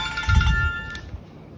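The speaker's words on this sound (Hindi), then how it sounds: "फोन आ रहा तेरा, किसको आ रहा?" A mobile phone ringtone rings loudly in a home at night, a bright repeating tone in a short burst and then trailing off, with no talking.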